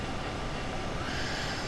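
A train in Train Sim World pulls into a station, a dense, steady rumble and rolling noise close and continuous with no pause over a couple of seconds.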